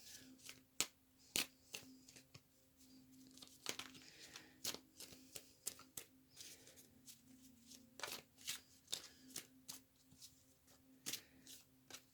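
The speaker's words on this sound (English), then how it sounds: "I'm going to pull a few more cards." Tarot cards being shuffled by hand, a run of sharp riffling bursts and quick slaps at an uneven rhythm, close up and crisp, with no voices over them.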